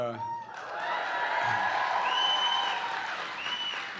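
Rally crowd in Joliet applauding and cheering on a Saturday morning, a steady wash of clapping with a few whoops and whistles rising over it, sustained throughout.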